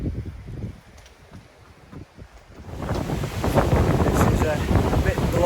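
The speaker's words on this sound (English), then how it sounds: "A bit blowy" Gusty wind at the official start of the Hadrian's Wall path, light and buffeting at first, then swelling into a loud, steady roar against the microphone.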